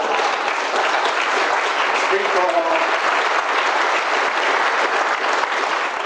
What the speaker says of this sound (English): Biggest applause so far.